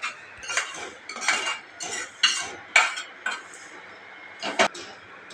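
A metal spoon scrapes sukhdi made with edible gum out of a pan onto a plate, giving about eight separate scraping and clinking strokes with short pauses between them, close by and with no talking.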